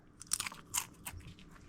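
Someone bites into a fried potato snack, a few quick crisp crunches followed by softer chewing, close up and quiet, with no speech.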